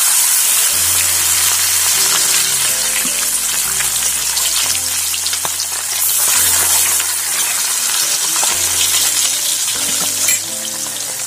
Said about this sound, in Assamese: আমি এতিয়া এজনীকৈ ভাজি লওঁ